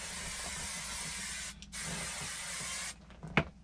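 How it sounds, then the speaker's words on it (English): Two long, steady hissing bursts of aerosol hairspray, close and fairly loud, separated by a brief pause, followed by light handling noises. "Spray."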